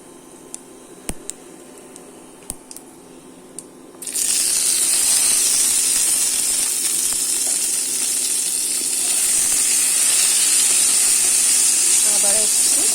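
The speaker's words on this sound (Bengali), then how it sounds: "এবার টমেটোগুলো দিয়ে দেবো।" Tomatoes drop into hot oil and burst into a loud, sustained close sizzle that continues steadily after a few quiet clicks and taps, with no talk.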